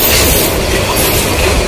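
The Kurigram Express rolls past close by on ground-level track in Bangladesh, a loud, dense rush of rattling wheels and clattering carriages with metallic squeal, continuous throughout.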